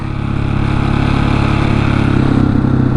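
A supermoto motorcycle engine runs loud and close for the whole stretch, a steady, throaty drone with no pauses and no voices.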